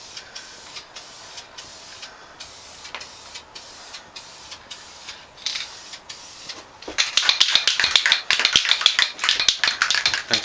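A spray can applies clear coat to a wooden dice tower. Short hissing bursts come in a steady rhythm, then give way to a longer, louder continuous spray with rattling sputters near the end.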